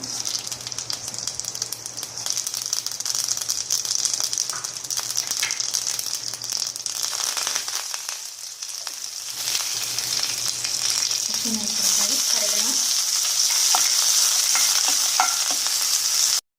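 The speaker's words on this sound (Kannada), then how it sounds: "ಇಲ್ಲಿ 2 ಟೇಬಲ್ ಸ್ಪೂನ್ ಎಣ್ಣೆ ಕಾಸಾಕಿಟ್ಟಿದ್ದೆ, ಕಾದಿದೆ. ಅದಕ್ಕೆ ನಾನು ಸಾಸಿವೆ ಹಾಕ್ತೇನೆ." Mustard seeds crackle and sizzle in two tablespoons of hot oil for a dhokla tempering, a dense, continuous close spitting that grows slightly louder toward the end, with a brief voice in the background.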